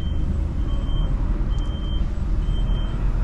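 A reversing alarm beeps at a steady, evenly spaced rhythm over the low rumble of an idling truck engine, close by.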